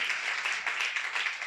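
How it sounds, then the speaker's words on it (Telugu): A church congregation claps loudly together in rapid, continuous rhythm, a dense wash of hand claps filling the room. "గట్టిగా చప్పట్లు కొడుతూ ప్రభు నామాన్ని కొట్టండమ్మా"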